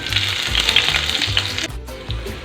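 Garlic cloves frying in hot oil in a pan, a steady bright sizzle with low stirring knocks and scrapes, close and fairly loud, easing off briefly near the end.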